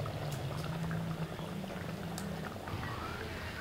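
Coconut milk is poured into a pot of simmering okra curry, the liquid bubbling in a soft, continuous boiling sound heard up close.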